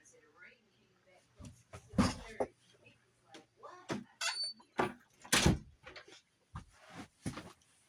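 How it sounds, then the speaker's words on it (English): An indoor door is closed with a cluster of knocks and a firm thud amid scattered clicks and rustles. The sounds are close and fairly loud and stand alone with no talk. "I had to close the door."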